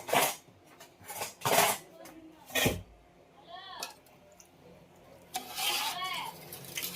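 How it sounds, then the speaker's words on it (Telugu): A large pot of chicken curry is stirred with a metal utensil, giving loud, uneven scraping and clanking strokes close by, separated by quieter pauses, with some voice sounds mixed in. "సరే కర్రీ తిప్పుతా"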